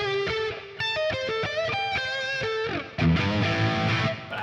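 Clean electric guitar chords and single-note lines on the original Charvel Jackson single-coil neck pickup ring out alone with light effects, bright and moderately loud, shifting to a busier strummed passage near the end.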